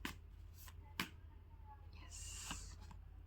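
Tarot cards being shuffled by hand: a few quick, soft riffles and taps, then a longer brushing riffle, all faint and close.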